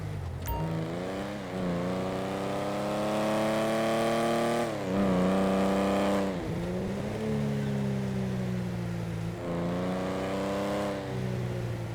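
Engine of the XA21 supercar in the GTA Online video game, revving hard through repeated gear climbs with a smooth rising whine that drops at each shift, loud and close with no voice over it.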